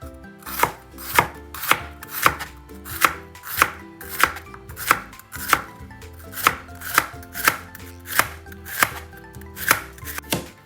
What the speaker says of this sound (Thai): เราจะหั่นมะระบางๆ